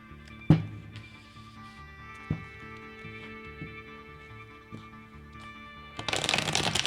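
Tarot cards are shuffled in a series of soft riffles and taps, with a sharp snap near the start and a louder, dense flutter of cards near the end, close and quiet with no talking.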